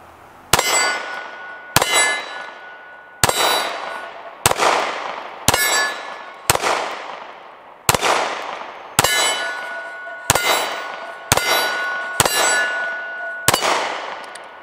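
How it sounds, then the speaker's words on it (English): A Taurus G3c pistol fires about eleven evenly spaced shots, each with a sharp report and a ringing clang from steel targets that fades before the next shot. "So let's shoot this Taurus"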